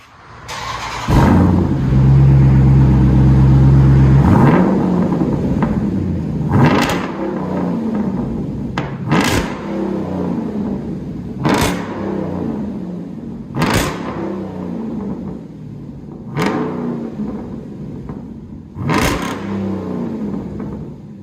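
A 2021 Dodge Durango SRT with a 6.4-liter HEMI V8, true dual exhaust, bottle resonators and 4-inch black tips, loud and close, gives a sustained deep rev early on, then settles into a throbbing idle broken by sharp repeated blips.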